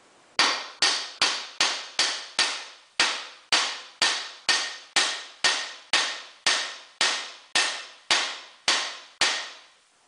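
Hammer blows flattening brass washers on a flat steel plate held in a bench vise, about eighteen sharp, ringing metallic strikes in a steady, fairly quick rhythm, loud and close with no talking.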